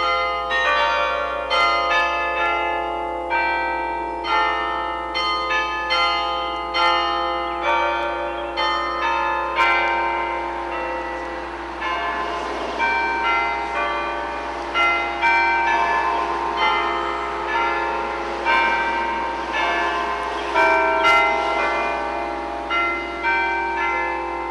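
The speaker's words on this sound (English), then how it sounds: "The bells from the chapel still ring on Sunday mornings." Chapel church bells ring on a Sunday morning, a long, loud peal of repeated strikes with overlapping, sustained tones that wash together throughout, with no voices.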